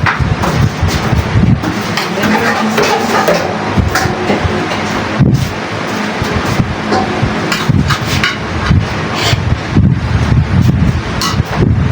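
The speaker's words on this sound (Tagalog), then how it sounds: "May hangin na nagpasok." Loud, gusty wind buffeting the microphone with rumbling and thumping, continuous and close, with no talk.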